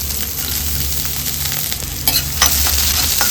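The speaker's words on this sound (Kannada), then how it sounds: "ಅದನ್ನು ಸೇರಿಸ್ಕೊಂಡು ನೀಟಾಗಿ ಫ್ರೈ ಮಾಡ್ಕೊಳ್ಳೋಣ" Finely chopped onion fries with mustard seeds in a pan, producing a loud steady sizzle with a few sharper stirring scrapes near the end.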